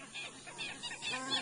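Several birds near a fledgling site call over and over in harsh, clucking bursts while mobbing an anaconda, moderately faint and without voices.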